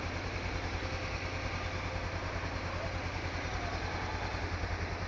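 A motorcycle engine runs steadily on a Madrid street at night, a low, even throbbing rumble that stays constant and fairly faint for the whole stretch with no talking.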